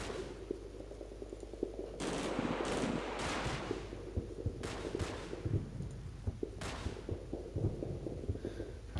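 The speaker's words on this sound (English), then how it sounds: "Alright, now it's just an exchange of fire." Gunfire is traded in the Normandy-set video game Combat Mission: Battle For Normandy, with dense overlapping bursts and rattling shots crackling continuously over a steady low rumble, loud and sustained with no talk.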